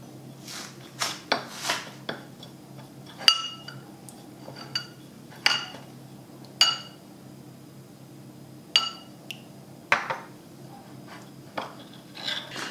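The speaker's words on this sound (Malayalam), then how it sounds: "ഇത് നമുക്ക് ശരിക്കും മിക്സ് ചെയ്യാം, ഒരു ചെറിയ പേസ്റ്റ് പോലെ ആക്കിയെടുക്കാം." Spoon clinking and scraping against a bowl while cornflour powder and milk are stirred into a paste, giving irregular sharp taps and scrapes at close range with no talking.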